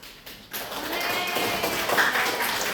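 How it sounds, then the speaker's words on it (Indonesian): A group of students receives applause in a classroom, a dense burst of many hands clapping that starts abruptly and holds steady at moderate loudness. "Kita kasih aplaus dulu"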